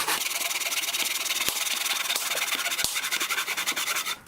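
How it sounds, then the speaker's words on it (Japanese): A handsaw cuts through wood beside an outdoor campfire, giving a steady, rasping back-and-forth stroke rhythm that stays loud and close throughout, with a few sharp knocks along the way. "意外とノコギリの扱いはうまいっすね。"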